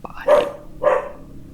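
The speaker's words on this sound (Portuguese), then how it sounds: "Minha cachorra tá latindo." A female dog barking twice, close and loud, two sharp barks about half a second apart with nothing else around them.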